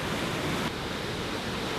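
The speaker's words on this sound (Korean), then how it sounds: "푸른 수풀에 둘러싸여 하얀 포마를 일으키며 떨어지는 폭포" A huge waterfall in Galilee, Israel, ringed by green brush, plunges with white spray, giving a steady, dense roar that stays loud and even throughout with nothing else heard.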